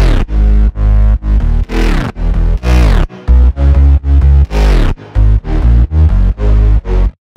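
A future house bass line plays loud and up front, with a growling bass and punchy brass stabs in a choppy rhythm, plus repeated downward pitch dives from a tape-stop effect.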